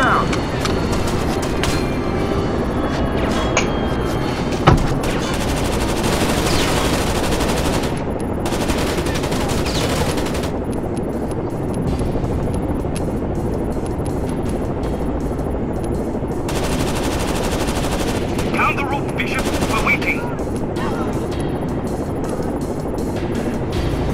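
Enemy gunfire in the video game Rainbow Six Vegas 2, with loud continuous automatic bursts and shots filling the scene alongside game noise, plus a few sharper cracks.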